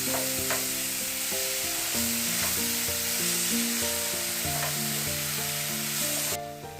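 Spoonful of ground paste being stirred and mixed into a sizzling masala in a pan, a steady scrape and fry under soft background music, with no talking.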